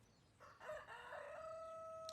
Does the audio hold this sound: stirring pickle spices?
no